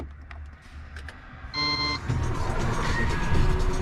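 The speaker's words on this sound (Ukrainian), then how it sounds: "Нажимаємо цю чарівну кнопочку, старт стоп." A truck engine cranks and catches after a start-stop button press, following a short burst of electronic beeps, then settles into a loud, steady running rumble close by.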